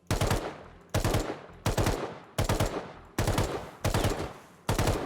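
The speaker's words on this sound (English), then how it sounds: "there's your 3-round burst" Three-round bursts from the LR rifle fitted with a burst module in the video game Rust, fired seven times in a steady rhythm, each burst loud and close with a short decaying tail and no talking.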